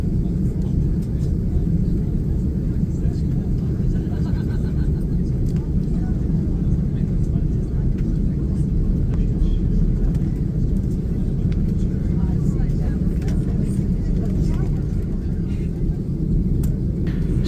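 Steady, loud, low cabin rumble inside a Virgin Atlantic Airbus A330neo taxiing at London Heathrow, a constant engine drone and roll with no breaks.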